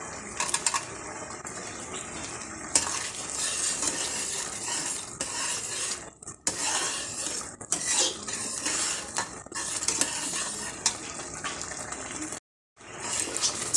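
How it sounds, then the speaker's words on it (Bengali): A spoon stirs cashews and raisins frying in melted sugar in a metal pan, with continuous scraping, clinking and soft sizzle, close and busy, and a brief gap near the end. "এখন আমি 1-2 মিনিট ভেজে নেব, চিনিটা যাতে ভালো করে গলে যায়। এখন আমি কাজু আর কিশমিশগুলো দিয়ে দিলাম।"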